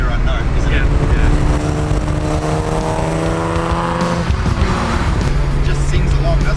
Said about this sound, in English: that's the best thing about this V6. It's got that really nice rev note.